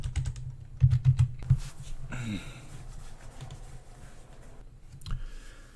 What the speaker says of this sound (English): you would type in your username here